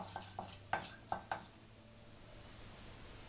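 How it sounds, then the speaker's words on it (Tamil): Mustard seeds popping in hot oil in a pan, a handful of sharp, distinct crackles and pops clustered early, then a quieter faint sizzle lingering, heard close up with no talking. "இப்போ இந்த கடுகு வந்து நல்லா பொரியட்டும்."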